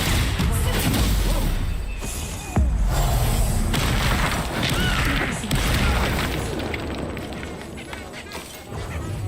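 Incendio and Confringo fire spells in Hogwarts Legacy roar and burst in loud, dense booms with crashing impacts, packed continuously throughout, with voices mixed in.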